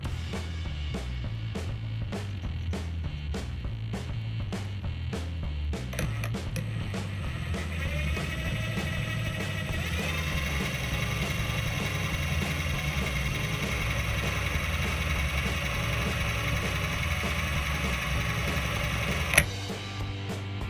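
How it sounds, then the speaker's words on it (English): Impact wrench fitted with a chuck adapter twisting clapton coil wire, a steady rapid hammering buzz that runs unbroken for about twenty seconds, close and loud, with no voices. "I'm using my impact wrench. I've got a chuck adapter"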